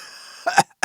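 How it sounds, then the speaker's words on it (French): A single short cough from a reader voicing a story, two quick harsh bursts close to the microphone. "Puis ils se mettent à tousser."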